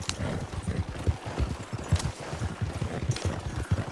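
Horse hooves clip-clop steadily as the animal pulls a cart through snow in Red Dead Redemption 2, an even rhythmic trot heard close and alone, with no voices.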